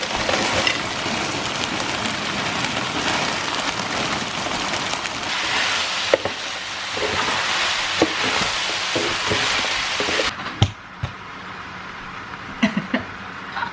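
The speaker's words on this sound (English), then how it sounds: "So now we're going to add a whole stack of frozen mixed vegetables." Frozen mixed vegetables sizzling loudly in a pan, a dense steady hiss with scattered crackles and clinks that quietens near the end.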